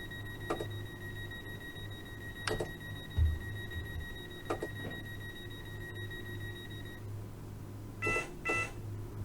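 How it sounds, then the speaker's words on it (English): A few short electronic beeps sound alone at intervals, ending in a quicker pair of buzzy guard-buzzer tones over a low steady hum, at a train departure in Train Sim World 2 on the Isle of Wight line. "Hear the guard buzzer."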